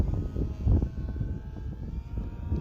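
An FMS Beaver 2000mm V2 foam RC airplane makes a slow flyby, its steady electric propeller drone holding at moderate distance with a brief swell in loudness early on, heard outdoors with no talking.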